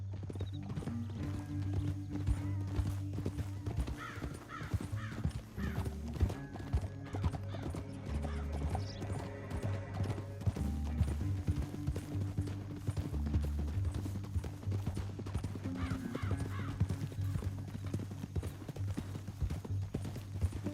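Horse hooves clip-clop at a steady trot in Red Dead Redemption 2, with an occasional whinny, set against a continuous low musical drone.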